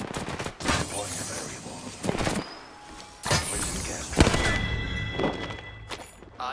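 Gunfire in Apex Legends battle-royale combat: repeated loud bursts and volleys of shots close by, mixed with thuds and occasional voice chatter.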